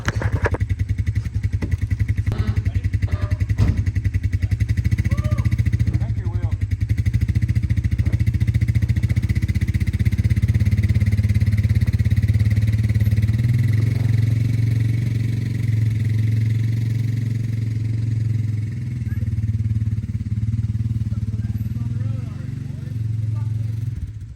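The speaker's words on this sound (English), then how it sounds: "Using the four-wheeler, guide it up, and we're gonna back it in." A four-wheeler ATV engine runs steadily nearby, pushing a 1969 Chevelle that sat parked for over a decade, a loud continuous low rumble that swells slightly and holds throughout, with voices faintly underneath.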